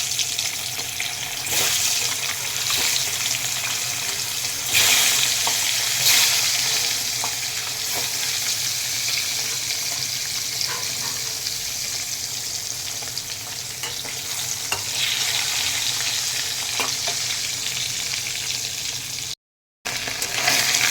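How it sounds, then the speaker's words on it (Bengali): Duck eggs frying in hot oil seasoned with a little salt and turmeric give off a loud, continuous sizzle and crackle, close up and unbroken, with one brief dropout near the end and no talking. "এখন ডিমগুলি ভেজে নেব"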